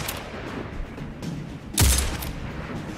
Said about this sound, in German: Wir haben hier so ein super, super Knallergewehr.